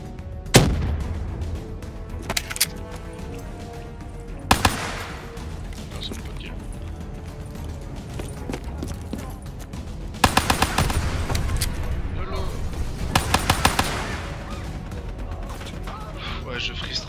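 Gunfire in Call of Duty comes as sharp, loud bursts of shots at intervals, with a dense cluster of rapid fire near the end, over a steady game background.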